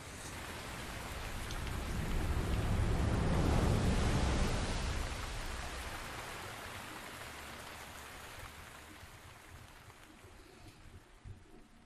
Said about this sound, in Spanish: No ha parado de llover.